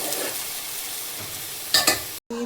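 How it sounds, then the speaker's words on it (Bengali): Pumpkin leaves frying in oil with garlic in a wok, a soft steady sizzle with a couple of louder stirring scrapes near the end before a brief cut. "কড়াইয়ে তেলটা ঢেলে দিলাম, আগে আমি শাকটা ভেজে নেব"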